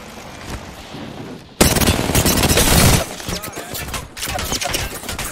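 Gunfire in the video game Apex Legends during Season 9, quiet at first, then a sudden loud sustained burst of rapid automatic fire, followed by further bursts of shooting.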